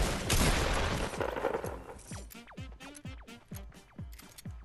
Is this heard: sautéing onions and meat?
no